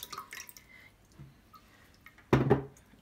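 Washed grated potatoes pressed and squeezed by hand, letting water drip and splash out in a short burst near the end after faint trickling, close and fairly quiet.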